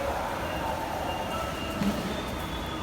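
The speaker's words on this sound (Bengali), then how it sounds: "আমাদের ট্রেনটা চলে আসছে" A metro train draws into a station platform on the route from Karwan Bazar to Farmgate, a steady rolling rumble with a thin high squeal from the wheels near the end, under a low murmur of people around.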